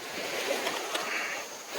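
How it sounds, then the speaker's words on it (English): Ocean waves roll in with a steady, broad rush of surf, close and fairly loud, briefly swelling before easing off. "Now look at these waves coming in."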